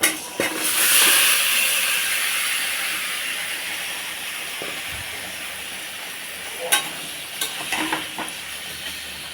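Marinated meat hits a hot pan with a burst of hissing, steamy sizzle that settles into a steady frying hiss, broken by a few scraping stirs near the end.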